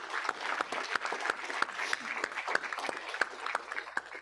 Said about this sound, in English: I'd like to give all 3 of our community service officers a big round of applause.